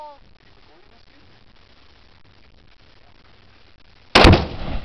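A single loud outdoor explosion bursts suddenly after a long quiet stretch of low wind rumble, its broadband blast decaying over the final second.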